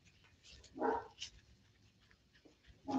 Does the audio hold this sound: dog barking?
yes